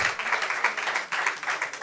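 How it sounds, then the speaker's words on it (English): Brief applause from a summit audience, a small group clapping in a loose, uneven rhythm with slight swells, fairly close and unaccompanied by talk. "Please, a hand of applause for them."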